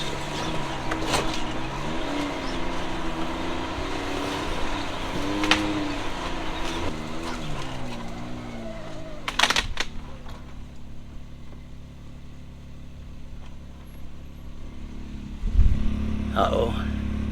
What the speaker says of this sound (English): I've got it in low front diff lock, and we're just chugging along